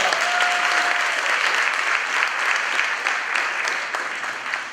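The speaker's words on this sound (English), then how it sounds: "Let's give them a round of applause." Steady, dense applause from an audience at a high school cord ceremony, loud and continuous throughout with no speech over it.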